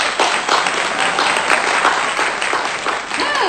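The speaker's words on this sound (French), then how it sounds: "Tu peux applaudir pour Dieu" A church congregation claps during a French service, producing a bright, continuous roar of many hands with a few distinct nearby claps and faint voices or cheers mixed in.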